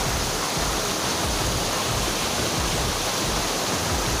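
A waterfall at Amsing Jorabat hill station near Guwahati roars as a steady, loud, dense rush of falling water, filling the whole clip with no voices.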